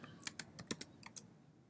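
Fast, light clicking of computer keys on a Mac as a command is typed, about a dozen soft taps in quick bursts, close but quiet.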